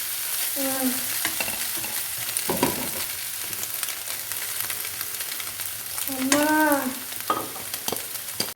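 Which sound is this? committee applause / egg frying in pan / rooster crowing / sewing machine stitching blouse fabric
egg frying in pan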